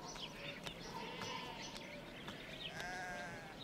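A flock of sheep bleats over and over, several overlapping calls at moderate distance, with a few bird chirps in a steady outdoor background.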